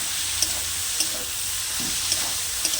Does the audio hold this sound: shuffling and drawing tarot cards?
no